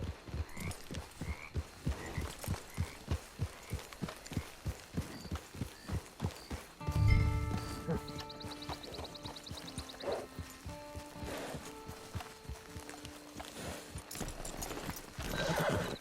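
In the video game Red Dead Online, hooves clop in a steady rhythm, then a horse whinnies loudly up close, followed by quieter snorts and shuffling as the clopping returns near the end.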